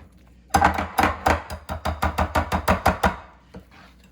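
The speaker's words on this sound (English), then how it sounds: "we're gonna put it inside the pudding mix that we made. So we're just gonna dump some in like this, and then you wanna stir it" Spoon stirring Cool Whip into a bowl of banana pudding mix, a run of about a dozen quick, evenly spaced scraping taps that sound close and fairly loud, then a short pause and a softer tail, with no talking.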